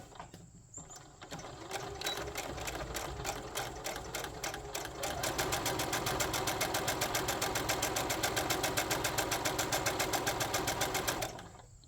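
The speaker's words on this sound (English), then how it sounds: "run a stitch down the edge here and down the edge on this side." Sewing machine stitches down the edge of a boxy bag in a fast, steady mechanical rattle that speeds up partway through and runs continuously for about ten seconds before stopping, with no talking.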